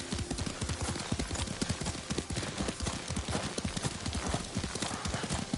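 Horse hooves clip-clop steadily at a riding pace in the samurai video game Ghost of Tsushima. The rapid, rhythmic thuds are close and continuous, with a brief whinny in the mix.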